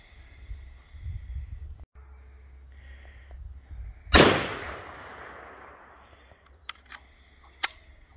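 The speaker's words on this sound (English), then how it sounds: "All right, we're shooting this carbine." A single loud, sharp carbine rifle shot cracks at an outdoor shooting range, its report ringing out and decaying, followed by a couple of fainter distant pops and clinks.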